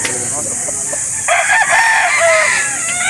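Roosters and hens crow and cluck loudly and close by at a chicken sale market in Calauan, Laguna, with a busy crowd murmuring underneath.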